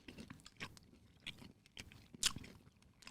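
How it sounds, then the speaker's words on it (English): Sour Skittles candy being chewed close up, with irregular wet crunches and bites over about three seconds and a sharp crunch burst near the end. "Let's just eat the Skittles."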